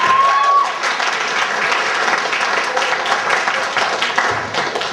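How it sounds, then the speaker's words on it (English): Applause at a festival in a High Street centre, honouring a junior rock band: dense, steady clapping from a live crowd, fairly loud and sustained throughout, with no speech over it. "We should go another round of applause."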